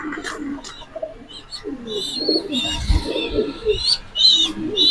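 Nuremberg lark pigeons coo softly and repeatedly at close range, their low throaty calls overlapping amid light chirps and rustling in the background.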